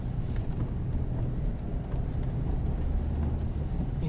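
Steady low engine drone with road rumble from inside a Ford Focus with a 1.6 TDCi turbo diesel engine driving uphill, continuous and even throughout.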